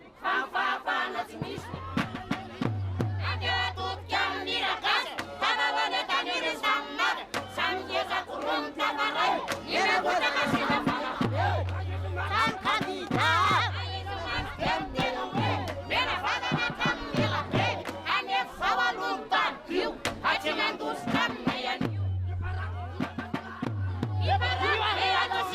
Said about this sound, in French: Les troupes hurlent pour lancer avec piquant cette morale.